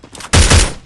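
A burst of rapid, loud gunfire from a Winchester gun in a battle royale shooter game, about half a second of clustered shots following a quieter stretch.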